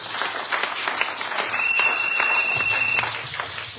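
A congregation claps loudly at a church service, dense sustained applause with sharp individual claps, and a high steady whistling tone running through the middle.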